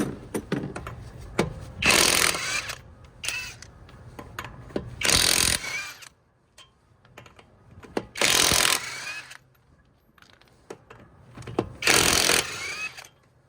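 An Alloyman half-inch cordless impact gun on full power, busting lug nuts off, heard as several loud, close hammering bursts of a second or so each, separated by quieter clicks and handling noise.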